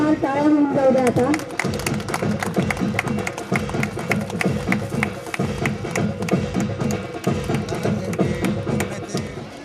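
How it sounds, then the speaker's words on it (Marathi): Applause at a retirement function, a crowd clapping loudly in a steady, rhythmic beat that carries on for several seconds. "जोरदार टाळ्या होऊन जाऊ द्या आता"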